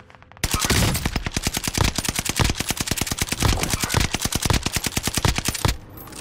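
Sustained automatic gunfire in the video game Warzone on the Fortune's Keep map, a loud, rapid stream of close shots lasting about five seconds with brief pauses in the burst.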